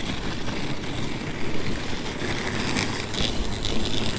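A dog sled drag cut from a piece of snowmobile track scraping over icy, snowy trail, a continuous rough grinding rasp that stays loud and steady throughout.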